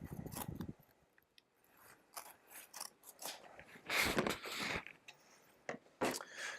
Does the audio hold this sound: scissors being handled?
yes